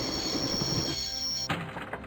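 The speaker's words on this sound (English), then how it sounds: "I'd always wanted to stop the train." A train in the Broken Sword video game, with rumbling rail noise and a sustained high metallic wheel squeal that stops abruptly partway, leaving clattering carriage sounds.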